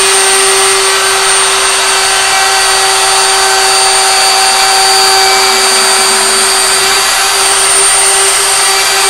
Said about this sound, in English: Now we're entering into the plywood.